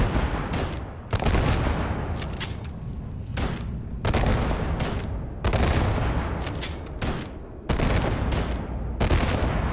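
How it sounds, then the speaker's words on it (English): Grenade launcher in Starfield dropping cluster bombs: loud, heavy bursts of rapid explosions come in repeated volleys every second or two, each a dense booming crackle. "it's a grenade launcher, but it throws like cluster bombs down"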